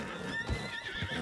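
A horse in the video game Red Dead Redemption 2 gives a short, fairly quiet whinny mixed with hoof clip-clops, lasting barely more than a second, with no speech over it.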